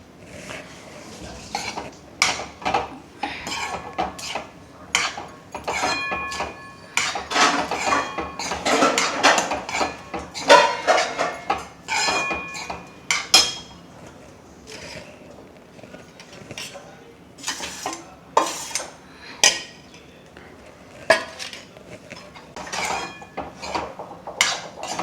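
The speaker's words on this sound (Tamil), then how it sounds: "ஜூஸை இதில் விட்டுட்டு சாதத்தை போட்டு கிளறணும்." Cooked rice with lemon juice and salt is stirred in a metal vessel, a long run of close, irregular clinks and scrapes of the spoon against the pot, dense at first and then sparser toward the end.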